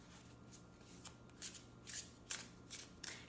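Tarot cards shuffled and drawn in a reading, giving a string of quick papery riffles and flicks that grow denser toward the end, close up and quiet with no voices.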